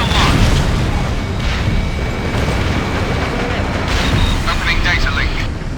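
In Ace Combat Infinity, a missile launch and explosion come as a loud, continuous roaring wash of jet engines and booming blasts, with radio-style voices talking over the din throughout.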